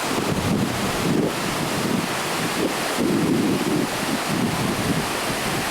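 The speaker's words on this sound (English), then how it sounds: "Water is really rushing through." A mountain stream rushes past among autumn aspens, a steady, full wash of water that surges slightly in places and is blended with wind buffeting the microphone, with no voices.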